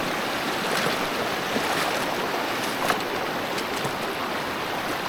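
A mountain creek at a hiking crossing in Utah's Tushar Mountains, its water rushing and splashing in a steady broadband wash for several seconds, close by and with no talking.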